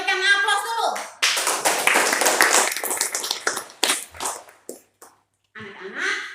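A classroom of children claps together in a short burst after a teacher's speech, close, uneven clapping that thins out into scattered claps, with voices before and after.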